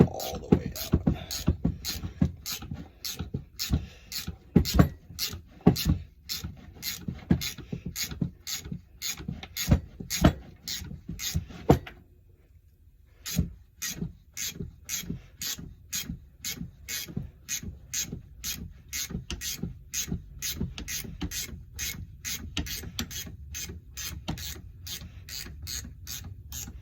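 A nut being tightened to pull a bushing out of an HPC Speedex cutting machine, a steady run of sharp ratcheting clicks at an even pace, briefly pausing midway before resuming, close and moderately loud with no talk.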